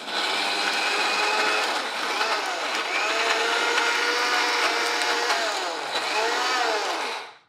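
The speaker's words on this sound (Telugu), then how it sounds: "పచ్చడి మెత్తగా రుబ్బేసుకున్నాము. మిక్సీలో నుంచి తీసేయండి." A kitchen mixer grinder whirs loudly and steadily as it grinds black gram chutney with a little water, its pitch dipping and rising as the load shifts before it winds down at the end.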